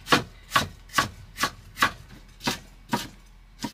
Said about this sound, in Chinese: 切菜一般都是由我来。